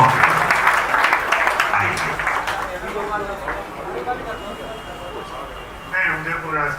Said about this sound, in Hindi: सभी ताली बजाएंगे, गुरुदेव का स्वागत करेंगे।